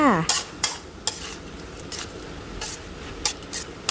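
Pork sausage and holy basil stir-fried in a pan, spatula scraping and tossing in quick repeated strokes over a soft background sizzle, close up, with metal clinks against the pan and no voices.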